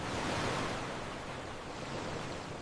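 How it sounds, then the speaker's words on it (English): Sea waves washing onto a beach, a steady broadband surf wash that stays at an even, fairly loud level throughout, with no voices. "I hear the sound of the waves."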